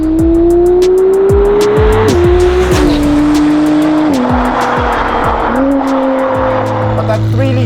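A Novitec-tuned McLaren Artura with a 3-litre V6 making 720hp through a race exhaust, revving hard and loud through several gear changes as it drives, with tire noise and a rushing roar throughout.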